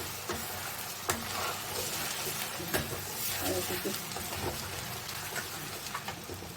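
Ground pea paste for koraishutir kochuri hitting a hot kadai, a dense, continuous sizzle like steady rain, with scattered sharper pops and stirring scrapes over the whole stretch.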